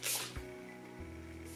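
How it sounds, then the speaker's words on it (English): A short, sharp hiss of a makeup finishing spray aerosol burst at the start, followed by quiet background hum. "I'm just gonna give this finishing spray."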